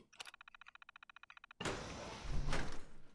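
A remote-controlled door in Fallout 4 gives a rapid train of mechanical clicks, then a sudden loud whoosh and rumble as it slides open, with a further thump near the end.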